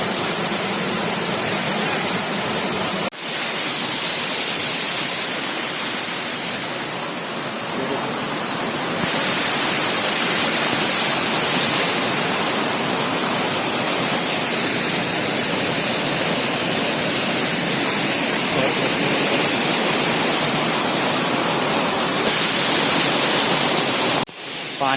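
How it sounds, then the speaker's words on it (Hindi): The Chunari waterfall roars as a dense, steady wash of falling water, loud and unbroken for the whole stretch, with no voices over it. "सामने से झरना कुछ इस तरह दिखता है"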